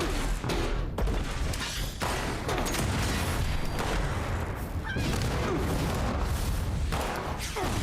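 Rapid gunfire from other players in Fallout 76 fills the scene with a dense, continuous barrage of loud shots and bursts, with little pause throughout.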